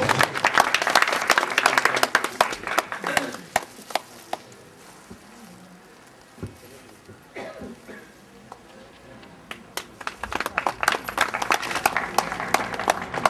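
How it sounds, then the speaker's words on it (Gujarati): An audience at a ceremony for a Kutch president bursts into applause, loud dense clapping that eases in the middle, with scattered claps, then swells again toward the end. "આપણે તાળીઓથી વધાવશું"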